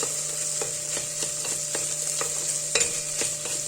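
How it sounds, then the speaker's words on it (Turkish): Tomato paste sizzling steadily in a hot pan while a utensil scrapes and stirs it in irregular strokes, close and continuous. "Salçayı biraz kavuruyorum."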